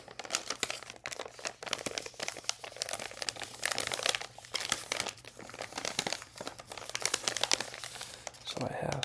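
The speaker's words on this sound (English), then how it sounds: "Today I just wanted to do a candy crinkle video." Candy wrappers around Australian licorice crinkle and crackle continuously up close, bursts of crisp rustling with a faint low hum beneath and a soft voice now and then.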